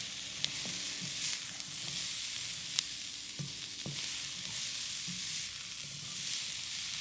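Shrimp and asparagus frying in a stir-fry pan, a steady low sizzle with occasional soft pops and utensil taps, close and even throughout, no talking.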